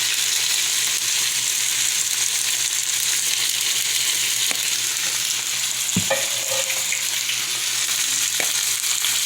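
Turmeric, chili powder and potatoes fry together in a pan with a steady, dense sizzle throughout, broken by a few brief stirring scrapes and one sharper clatter near the middle.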